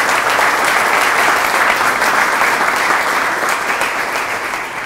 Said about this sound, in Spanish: Pido un fuerte aplauso para todas las instituciones.